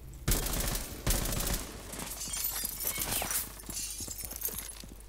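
Automatic gunfire sprays in the tactical shooter video game Rainbow Six Siege, opening with two sharp, loud blasts followed by rapid rattling bursts and shattering debris that trail off.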